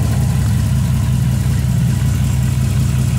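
1989 Corvette L98 350 tuned port injection V8 idling close by, a loud, steady low rumble holding an even idle throughout.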